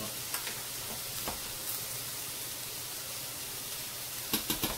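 Onions, mushrooms and broccoli frying in a pan for chicken fettuccine primavera give a steady close sizzle and hiss, with a few light clicks of stirring near the start and a cluster of sharper clinks near the end.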